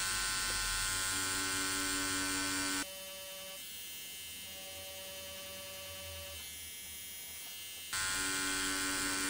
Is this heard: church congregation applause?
no